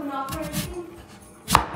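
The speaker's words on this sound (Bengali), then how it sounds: "এগুলো মিষ্টি আলু আমি চাকা চাকা করে বানিয়ে নিচ্ছি" A knife cuts sweet potatoes into round slices on a board, giving a few soft chops and then one sharper, louder cut near the end, close by.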